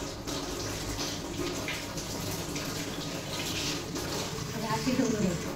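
Sweet potatoes are washed under a running tap with a steady, close stream of water and some splashing. A voice can be heard faintly in the background.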